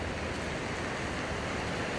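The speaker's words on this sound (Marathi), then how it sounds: "उल्हास नदी ही आपल्या शेतामधूनच गेलेली आहे" The Ulhas river in monsoon flood running through farmland, a steady, dense rushing roar of water with no breaks.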